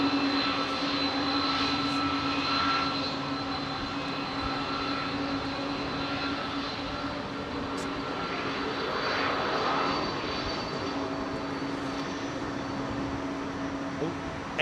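A jet aircraft takes off from Heathrow runway 27R close by, its engines producing a loud, steady roar with a continuous whine that holds throughout, with little variation in level.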